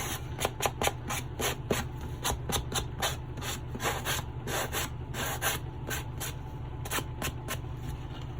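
Rapid, rhythmic rasping strokes of a sanding block on the cut edges of a writing board, a steady back-and-forth scratching at close range with no talking.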